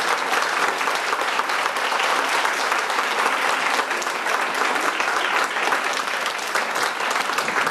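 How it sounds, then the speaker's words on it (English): A standing audience at a gathering honoring a rabbi gives sustained, dense applause, steady and loud from start to finish with no break. "I'm going to ask you all people to stand up and give a big applause for Harav Wallerstein."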